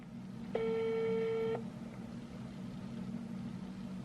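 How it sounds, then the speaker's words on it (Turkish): A telephone ringback tone sounds once while a call is placed, a single steady beep about one second long, clear over a low background hum. "Çalıyor."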